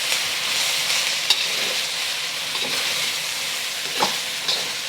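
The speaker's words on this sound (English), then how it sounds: "I just want mushroom to kind of sear a little bit on the bottom before moving it around" Mushrooms and onions sear in a pan with a constant close sizzle. Sparse clicks and soft scrapes mark occasional movement of the pan or utensil.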